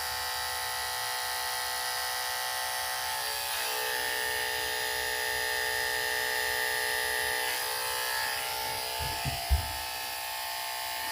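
An electric beard trimmer buzzes steadily and close up as it trims a beard toward the corners of the mouth, a constant high whine with a few soft bumps near the end.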